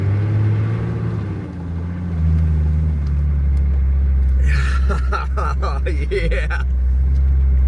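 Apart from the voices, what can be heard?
4WD vehicle driving through a snowdrift on a track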